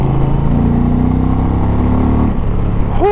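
A 2020 Indian Challenger motorcycle engine pulls hard while being ridden, a loud, steady droning roar that climbs in pitch, then shifts abruptly near the end as the revs change.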